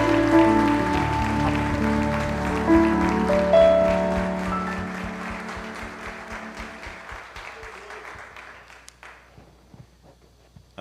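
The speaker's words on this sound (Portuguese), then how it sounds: "Com alegria, palmas ao Senhor." A church congregation claps in rhythm along with music, the sharp claps repeating steadily and then trailing off as the music fades.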